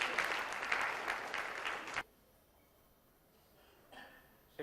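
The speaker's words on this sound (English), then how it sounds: "Once again, a huge round of applause." An audience at an industry exhibition and conclave claps for about two seconds, a fairly loud burst of many hands that stops abruptly, leaving quiet room tone with a faint sound near the end.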